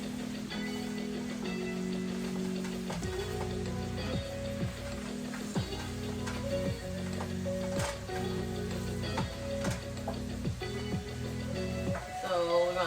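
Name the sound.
baked ziti sauce sizzling and popping on the stove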